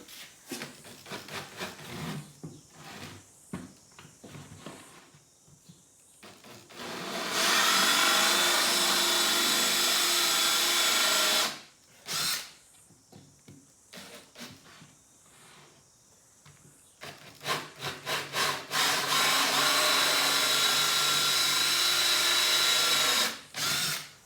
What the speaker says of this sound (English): drilling some pilot holes for the hole saw